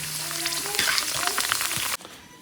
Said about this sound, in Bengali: তো বন্ধুরা এখানে ফুচকা ভাজা হচ্ছে